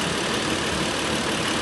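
A car engine idles steadily with a cooling fan running close by, a dense continuous broadband rumble and whir holding at a constant level throughout, with no speech.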